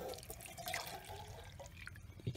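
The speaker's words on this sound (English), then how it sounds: "let's go ahead and pour the hot water" Hot water pours steadily into a cup for tea at an outdoor camp breakfast, a soft continuous trickle and splash heard close and fairly quiet.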